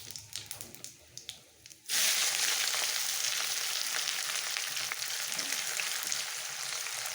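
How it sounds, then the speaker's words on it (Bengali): Onions drop into hot oil in a pan for a vegan jackfruit curry, bursting into a loud, steady close sizzle that holds to the end after a few quieter clicks and taps. "এখন পেঁয়াজ কটা আমি ভেজে নেব।"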